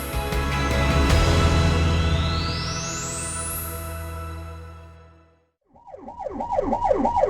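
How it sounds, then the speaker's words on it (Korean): A loud, dense engine-and-traffic roar fades out, then a fire engine's wailing siren rises and falls in quick repeated sweeps, close and clear. "사이렌 소리에 일사불란하게 움직이는 차량들"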